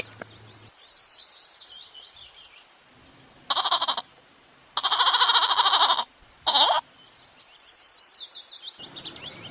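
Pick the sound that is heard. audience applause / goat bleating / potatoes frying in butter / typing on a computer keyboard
goat bleating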